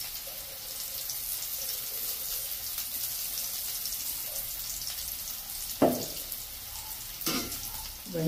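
Onions sautéing in a pan for a Jaffna herbal slimming dish, a steady soft sizzle throughout with a couple of sharp scraping or stirring clatters near the end, with no talking.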